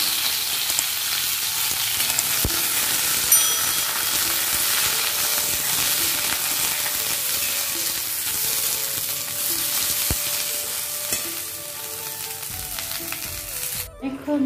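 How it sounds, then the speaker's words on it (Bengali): Vegetable stalks and potato pieces fry in hot oil over a five-spice tempering in a pan, a loud, even, crackling sizzle held for about fourteen seconds before stopping abruptly. "ফোড়নটা ভাজা হয়ে গেলে দিয়ে দিচ্ছি ডাটা আর আলুটা।"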